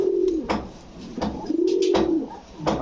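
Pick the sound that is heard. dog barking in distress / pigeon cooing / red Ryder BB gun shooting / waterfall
pigeon cooing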